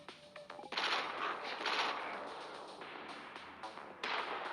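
Rapid bursts of machine gun fire crackle in the mobile game Johnny Trigger, several sustained volleys separated by brief pauses, loud and close with no talking.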